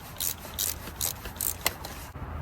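A ratchet tightens bolts on the water pump of a 2009-2013 BMW 328i with a magnesium alloy block, giving a close run of five or six rapid clicking bursts in an even rhythm, with no talking.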